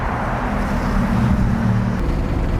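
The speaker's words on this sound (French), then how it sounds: "ça fait du bruit, et il y a des voitures" Continuous road noise of passing cars in Paris, a steady low rumble of traffic with engines droning by at moderate distance.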